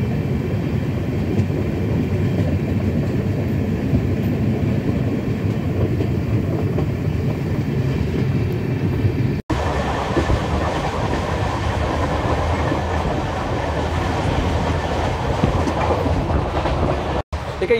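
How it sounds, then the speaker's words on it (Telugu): The Kakinada Port–Bhavnagar weekly superfast express rolls along with a loud, steady rumble and clickety-clack of wagons on the rails, heard from on board, with two brief dropouts. "ఇదొక వీక్లీ సూపర్ ఫాస్ట్ ఎక్స్ప్రెస్ రైలు"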